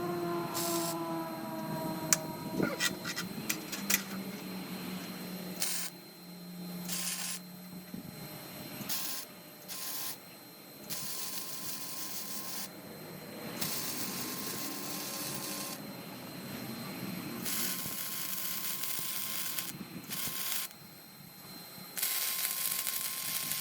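Metal is welded onto a steel welding table while building an ocotillo-style bottle tree, giving intermittent buzzing and crackling bursts with pauses between welds.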